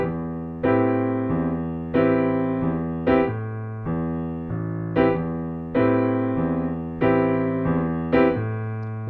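Piano playing minor blues chords over a walking bass line in the left hand, with evenly spaced struck chords in a steady rhythm, each decaying before the next, clear and close with no voice.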